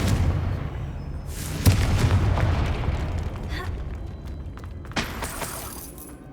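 A Confringo spell explodes in the Hogwarts Legacy video game, a sudden booming blast with shattering debris, followed moments later by a second smaller burst amid the game's ambient sound.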